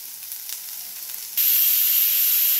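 Bitter gourd and lentils sizzle in a pan with tamarind, jaggery and salt, a steady close hiss that jumps noticeably louder and brighter halfway through and then holds.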